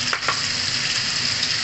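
Tomatoes hitting hot oil in a pan of frying ginisang ampalaya (Filipino sautéed bitter gourd) give a steady, close sizzle with a few brief crackling bursts near the start, and no talking.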